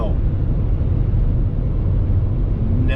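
Car cruising along a highway in Wyoming, a steady broadband road and engine rumble that stays loud and unbroken throughout, with no voices over it.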